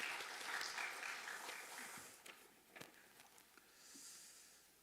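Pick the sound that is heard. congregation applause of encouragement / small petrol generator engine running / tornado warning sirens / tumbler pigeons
congregation applause of encouragement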